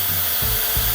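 A hair dryer pushes a steady, loud blast of cold air, a continuous rushing hiss with a faint low pulsing underneath.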